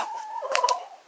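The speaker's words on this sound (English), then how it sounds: "These are Connie's chickens" Chickens clucking and calling softly nearby, a few short overlapping clucks with no talking.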